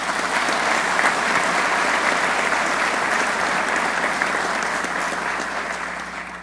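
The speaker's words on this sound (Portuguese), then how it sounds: "a quem peço uma salva de palmas muito especial" A large audience at a business awards ceremony in Minas Gerais applauds steadily, dense and even clapping at full strength for about six seconds before it begins to taper off at the end.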